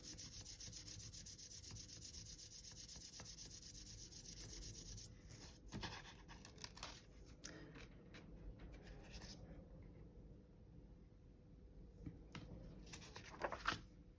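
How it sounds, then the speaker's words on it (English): Soft rubbing and burnishing strokes over polymer clay logo stamps, steady and close for the first five seconds, then lighter, intermittent scrapes and taps with quieter gaps. "I'm just going to get us another gentle burnish down"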